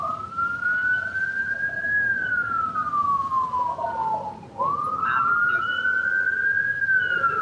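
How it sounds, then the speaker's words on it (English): A wailing emergency siren on a street in North St. Louis rises and falls continuously, loud and fairly close, with a brief dip partway through before climbing again over background traffic rumble. "Apologize for the sirens. We are in the middle of North St."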